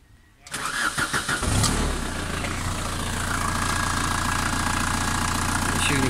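The diesel engine of an orchard work platform on a Ladog municipal vehicle chassis cranks with a quick series of sputters after glow plug warm-up, catches, and settles into a steady, loud, rough idle close by.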